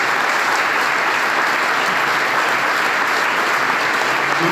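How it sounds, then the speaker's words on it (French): An audience applauds at a political speech in Valence, a loud, dense and sustained wash of many hands clapping close up, steady from start to finish with no voices on top. "Je voudrais aussi que vous applaudissiez Emmanuel."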